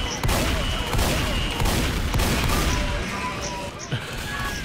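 Rapid gunfire from the game Left 4 Dead 2 rattles through a chaotic firefight, with repeated bursts of shots and impacts layered over a dense, loud backdrop of in-game noise.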